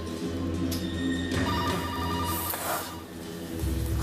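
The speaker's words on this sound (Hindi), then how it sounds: "आधी रात को फोन बजा बजा कर उठाता है" A telephone ringing at midnight in a Hindi TV serial scene, a steady electronic ring pulsing continuously and fairly loud, with no voices over it.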